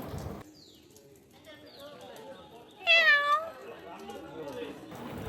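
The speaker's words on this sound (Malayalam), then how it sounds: "പുറത്തേക്ക് പോയപ്പോൾ ഒരു പൂച്ച ഇരിക്കുന്നു" A cat meows once, a short rising-falling cry standing out midway amid faint background noise and soft talk.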